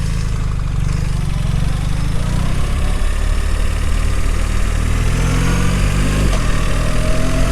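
A BMW R 1300 RT motorcycle from 2025 runs steadily with a constant low engine drone and rumble, close and continuous with no speech.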